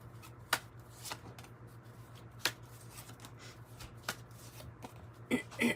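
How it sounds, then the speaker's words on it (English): A tarot deck riffles and snaps in a few quick shuffles, soft flutters punctuated by sharp clicks, close up over a faint steady hum. "I have one more little shuffle."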